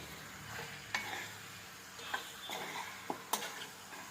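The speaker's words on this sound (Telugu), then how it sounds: "ఒకసారి ఇలా తిప్పుకోవాలండి, పైకి కిందకి తిప్పుకుంటే బాగా కలుస్తుంది." Chicken fry being stirred in a pan, a soft continuous sizzle with a few sharp scrapes and clinks of the spoon against the metal, close and without talking.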